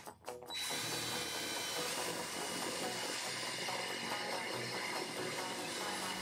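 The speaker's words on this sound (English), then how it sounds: "I'm using a Forstner bit the same width as my handle to drill halfway into the caddy sides." A power drill with a Forstner bit runs steadily boring into wooden caddy sides, a continuous loud whirring grind after a brief start, with no talking.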